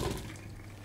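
Cooked butternut squash being strained, its cooking water pouring from the pot into a colander in a short, steady splashing rush that tapers off slightly, close and fairly quiet, with no voices.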